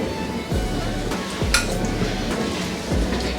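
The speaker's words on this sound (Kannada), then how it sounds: "ಕಡಲೆಬೇಳೆ ಉದ್ದಿನಬೇಳೆ ಫ್ರೈ ಆದಮೇಲೆ ಇದಕ್ಕೆ 2 ಒಣಗಿನ ಮೆಣಸಿನ್ಕಾಯಿನ ಹಾಕೋತಾ ಇದ್ದೀನಿ" Chana dal and urad dal fry in hot oil for a South Indian radish stir fry as dried red chillies are added. A steady close sizzle runs throughout, broken by a few soft clinks of a spoon against the pan.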